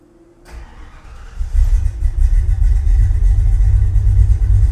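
A carbureted Ford Fox-body car engine cranks briefly after one accelerator pump, then catches and settles into a loud, rumbling idle with a slightly uneven, lopey rhythm, close up.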